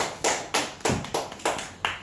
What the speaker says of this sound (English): Let's give yourself a good round of applause.